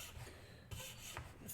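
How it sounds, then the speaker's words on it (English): Jeweler's saw cutting a violin bow frog, quiet close-up rasping strokes repeating at a steady back-and-forth pace with no talking. "I'm going to go ahead and take my jeweler's saw"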